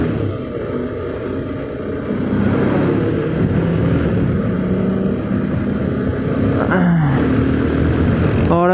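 A four-year-old Bajaj Pulsar 220 BS4 motorcycle engine drones while riding through traffic, a steady close rumble that gets louder after two seconds, with a brief higher whine near the end.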